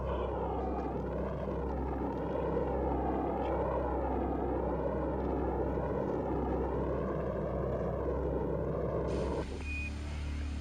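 An archive recording of the Apollo 11 Saturn rocket launch carries a continuous, heavy rumbling roar with a slowly wavering tone that holds at steady strength before changing abruptly near the end.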